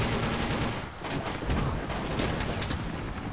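Dense, continuous gunfire in the video game TimeShift, rapid overlapping shots forming a loud, sustained barrage.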